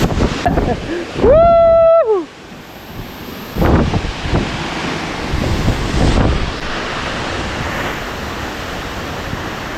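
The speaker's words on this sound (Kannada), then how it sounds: "ನೋಡಿ ಅಲ್ಲಿ ನೀರು ಹೆಂಗೆ ಬರ್ತಿದೆ ಈ ಕಡೆ" A steady roar of rushing water at Hidlumane Falls, Kodachadri, fills the scene with wind buffeting the microphone, broken early by a brief high whistling tone and some voices.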